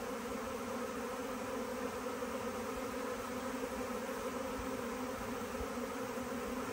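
Honey bees fan their wings at a hive entrance, a steady, dense buzzing hum that holds evenly throughout without breaks.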